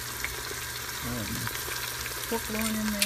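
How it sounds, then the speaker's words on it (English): Marinated pork loin with herbs sizzles in olive oil inside an Instant Pot, a steady broadband frying hiss running throughout while a person talks over it. "Can you hear it sizzling?"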